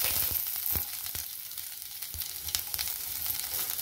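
Garlic frying in a pan for sotanghon noodles, a steady close sizzle with scattered sharp crackles and pops throughout, no voices.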